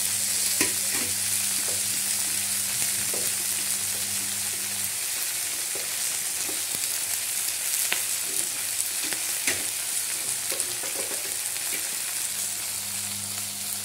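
Masoor dal lentils frying in a pan and stirred with a spoon, a steady close sizzle with scraping strokes, a faint low hum underneath, no one talking.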